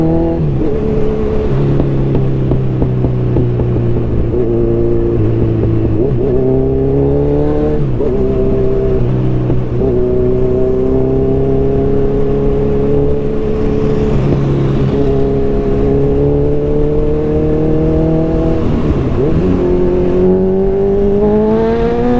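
A Kawasaki Z1000R motorcycle engine revs loudly and continuously, its pitch repeatedly climbing through the gears and dropping briefly between quick shifts, heard close and with no talk.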